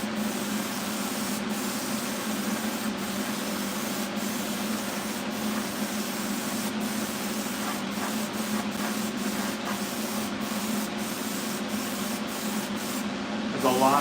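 Steady hiss of spray paint being applied to a LUXE Idol paintball marker and its hopper, a continuous airy wash with brief pauses between passes, close and alone.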